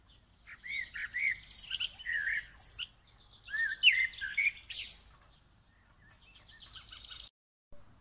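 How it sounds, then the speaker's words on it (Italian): A common blackbird sings outdoors in a quiet setting, giving several clear, fluting phrases with short pauses between them before the song falls silent. "Senti il merlo."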